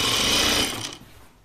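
Sewing machine stitching a quarter-inch hem seam on a shirtdress, a loud, fast, even mechanical whir close by that stops abruptly after under a second, no talking.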